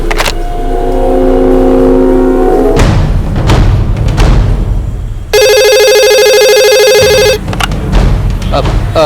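A loud electronic telephone ring trills for about two seconds, set among engine rumble, thumps and voices, in a Hindi-Punjabi crime drama scene.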